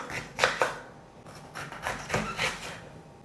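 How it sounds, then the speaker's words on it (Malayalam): A knife cuts through bitter gourd for a Kerala pachadi, giving a series of sharp, close chopping strokes in small uneven clusters with brief pauses between them, and no voice over them. "നമുക്ക് പാവക്ക ഒന്ന് കട്ട് ചെയ്യാം."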